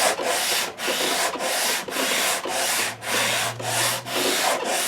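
Sanding the neck of a 1959 Gibson ES-335 with 80 grit sandpaper: loud, steady rasping strokes in a regular back-and-forth rhythm, close up, about eight passes with no talk.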